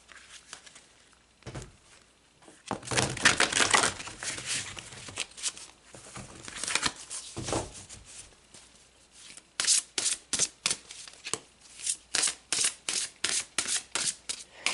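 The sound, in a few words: shuffling and pulling oracle cards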